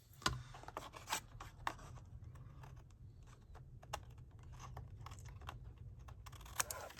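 Paper card edges being trimmed during a clean and simple stamped card project, quiet scraping and rasping cuts with occasional sharper ticks, close and soft against a low background hum.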